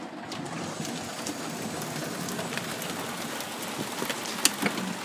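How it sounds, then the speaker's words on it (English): Rain falling outside at a car dealership in Edmonton makes a faint, steady hiss with scattered drops and a few sharper taps near the end, with no talk over it. "because it's raining outside"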